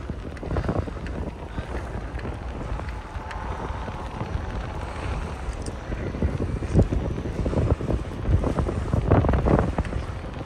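A light breeze along a warm seaside embankment in Adler, buffeting the microphone with a continuous soft roar throughout, rising slightly toward the end.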